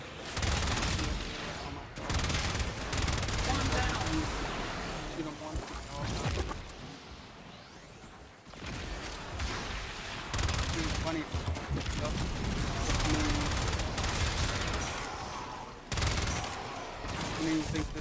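Rapid automatic weapon fire in the game Warframe rattles in long, loud volleys with brief lulls, while a voice talks over the shooting.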